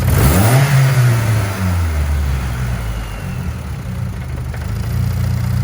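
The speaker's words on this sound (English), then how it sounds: "I actually heard a little bit of turbo spool in the background too" Mitsubishi Galant with a turbocharged 4G64 engine revving up and settling, a rising and falling engine note heard close, with faint turbo spool whine under the steady drone.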